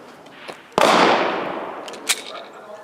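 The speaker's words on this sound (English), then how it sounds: "I got to shoot your new gun." A single sharp, loud shot from a new gun at an outdoor range cracks close by and then decays, followed by a fainter second report, with people talking around it.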